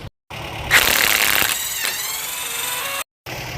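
An impact gun works on the wheel hub nut of a 2007 GMC Canyon, producing a loud, close, buzzing rattle that lasts about two seconds and is framed by short moments of silence.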